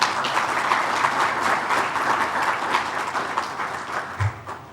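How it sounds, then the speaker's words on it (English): Crowd of students and adults clapping at a youth entrepreneurship competition and trade fair, a dense sustained round of applause that holds steady and then starts to thin toward the end. "Can we clap for JA?"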